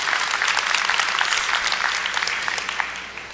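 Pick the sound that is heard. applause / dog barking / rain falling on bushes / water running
applause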